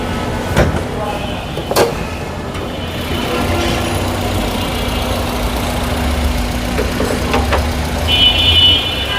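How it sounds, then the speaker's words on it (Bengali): Toyota Allion 1500cc VVT-i engine idling with the hood open, a steady low hum running throughout, with a few sharp knocks and handling noises nearby. "এ হচ্ছে গাড়ির ইঞ্জিন পনেরোশো সিসি ভিভিটিআই ইঞ্জিন"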